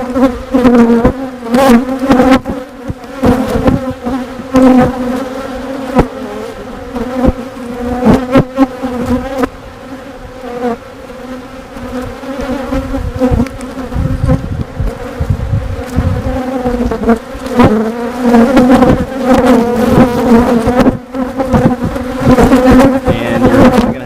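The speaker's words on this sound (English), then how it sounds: "you're probably going to have a hard time hearing me because the bees are all" Honeybees swarm and buzz around an open hive during an inspection, a loud, close drone with many bees passing right by, wavering in pitch and intensity throughout.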